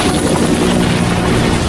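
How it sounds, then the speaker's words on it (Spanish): A helicopter flies just after takeoff, its loud rotor chop and turbine roar steady and close throughout without any talking. "Todos inmediatamente a los helicópteros."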